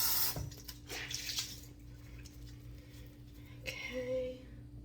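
Water splashes as a face is rinsed, with running water and soft drips nearby at a low level and a faint voice in the background.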